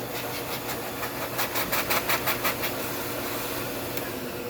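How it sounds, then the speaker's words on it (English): A WAXIE Versa 2 vacuum runs with a steady, close mechanical drone and rushing airflow. A faint rhythmic pulsing rises briefly midway, and no one speaks. "You simply turn on the vacuum, and you can see it's flowing air."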